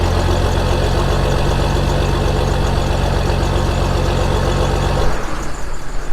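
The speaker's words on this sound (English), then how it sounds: "That's the sound of 325 PowerTech John Deere horsepower." A 325 hp John Deere PowerTech engine idles during cotton harvest, a loud, steady low diesel rumble with rapid firing pulses, close up and with no voices, briefly changing tone near the end.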